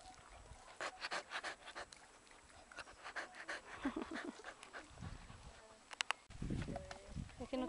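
A dog in a park pants in quick rhythmic breaths, close but fairly faint, among buzzing insects, light rustling and a few sharp clicks, with no speech.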